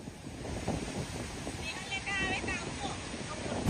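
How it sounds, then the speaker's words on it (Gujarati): The flooded Ambika river surges over the overflowing Mother India dam after extremely heavy monsoon rain, a continuous broad rushing roar mixed with gusty wind buffeting the microphone, with a faint voice briefly audible. "આ નદીનો ફ્લો જે તમે જોઈ રહ્યા છો તે ખૂબ જ વધારે વધી ગયો છે"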